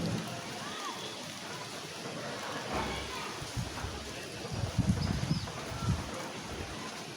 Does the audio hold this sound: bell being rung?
no